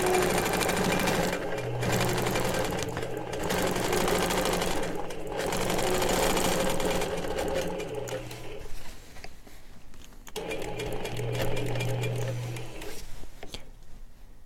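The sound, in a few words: Innova longarm sewing machine stitching in the ditch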